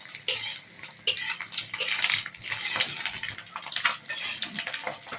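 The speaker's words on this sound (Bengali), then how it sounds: "আমাদের ডিমটা কিছুক্ষণ পর পর লাড়াচাড়া করতে হইতেছে" Quail eggs in a pan being stirred, with a metal utensil clattering and scraping continuously against the pan over a faint sizzle, close and fairly loud throughout.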